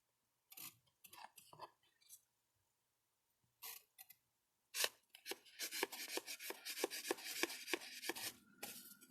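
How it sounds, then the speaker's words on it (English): An awl pierces holes along marked lines in book pages for hand bookbinding, giving sharp dry taps and scrapes, sparse at first, then a dense run of rapid pokes and rasping punctures close by. "You use your awl."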